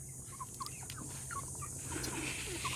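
Free-range black Australorp hens cluck softly on a farm, with several faint, scattered clucks over a steady background hum.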